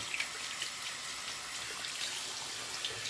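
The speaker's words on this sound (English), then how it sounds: "I'm waiting for the water to get warm." Bathroom tap left running while waiting for the water to warm up, giving a faint, continuous splash and trickle into the sink with no talking.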